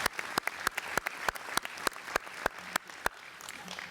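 Audience at an aviation authority conference plenary applauding, a thin scattering of distinct, fairly quiet claps in an uneven rhythm.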